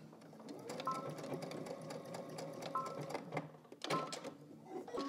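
A sewing machine stitching fabric in short bursts of rapid needle clatter with brief pauses between runs, fairly quiet and close, with no one talking.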